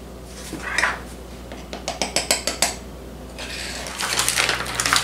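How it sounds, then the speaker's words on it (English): Four cups of flour are measured out for zucchini bread, with a run of sharp clinks and clatters from a measuring cup against a bowl or container, close and distinct, then a burst of rustling scoops. "Let's measure out our 4 cups of flour."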